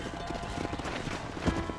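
Horse hooves clip-clop in the Western video game Red Dead Redemption, a steady, quick rhythm of hoofbeats close by under faint ambient game sound, with one louder thump near the end.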